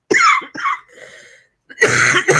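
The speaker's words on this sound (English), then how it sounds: "Can I take a coughing break?" Two short, harsh coughs close to the mic, then a faint pause before another rough burst of coughing and throat clearing.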